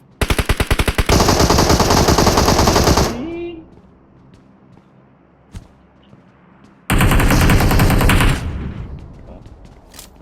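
Automatic gunfire in the mobile battle royale game PUBG Mobile rattles in two loud, sustained bursts of rapid shots separated by a quieter gap holding a single isolated crack.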